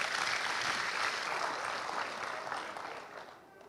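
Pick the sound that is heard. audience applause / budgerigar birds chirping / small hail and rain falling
audience applause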